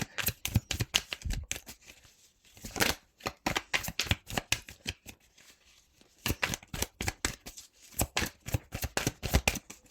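Tarot cards being riffled and drawn by hand, a run of crisp papery flutters and snaps in quick bursts with short pauses between, close and clear with no talking.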